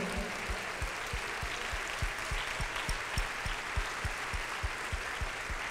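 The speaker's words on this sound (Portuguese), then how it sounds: "você quer aplaudir ao Senhor?" A church congregation at a Wednesday service claps in unison, steady rhythmic beats about four per second over a wash of crowd noise, continuing throughout.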